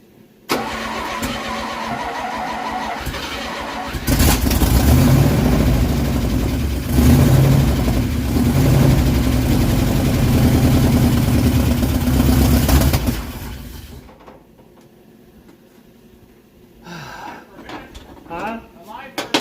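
1968 Dodge W200 Power Wagon engine cranking, catching and revving loudly for about nine seconds before dying away, with people talking around it.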